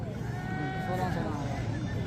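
Sheep bleat at a busy livestock market, a few wavering calls rising over a steady crowd murmur with people talking nearby throughout.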